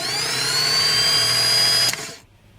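A rebuilt Jeep 4.0L starter motor spinning freely on a bench test, a loud steady high-pitched electric whine that holds for nearly two seconds, then cuts off and winds down quickly into near silence.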